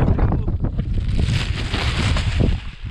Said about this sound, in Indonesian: Anginnya kuat ini.